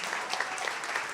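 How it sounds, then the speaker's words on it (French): Audience applause at the final of a queer comedy competition, a continuous dense roar of many hands clapping, even and sustained throughout the brief moment with no break. "Continuez vos applaudissements pour Marc Maillet."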